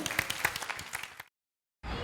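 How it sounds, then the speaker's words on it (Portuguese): Applause for a woman at a Brazilian business event, quick clapping from a small group for about a second before it cuts to silence, then a burst of noise returns. "Uma salva de palmas para ela."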